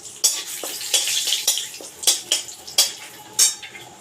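Whole spices (torn bay leaf, chilli, cardamom, clove and cinnamon) tempering in a little oil, heard as a bright sizzle broken by repeated sharp scrapes and clinks of a spoon against the pan.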